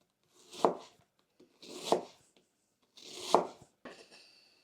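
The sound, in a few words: knife chopping red onion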